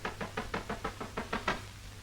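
A knock on a door, about eight evenly spaced raps in a steady rhythm, moderately loud and fairly close, over a low background hum.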